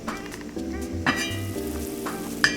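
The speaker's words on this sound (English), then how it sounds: "And we have a nice boil going on" Oxtail curry stew bubbling at a low, steady boil in a pot on the stove, with soft sizzling and occasional clinks of a spoon or lid, alone with no talk.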